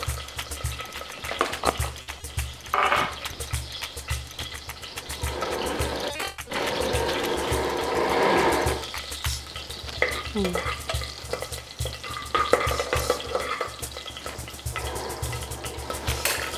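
Cumin and mustard seeds crackle and pop steadily in hot oil, a dense close sizzle with stirring scrapes running throughout and no talking.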